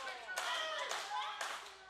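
A wrestling crowd at an OVW show claps in rhythmic bursts for Jocelyn Navarro, about four strong clap swells in a steady beat, with voices mixed in underneath.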